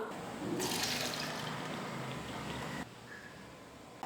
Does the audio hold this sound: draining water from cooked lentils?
yes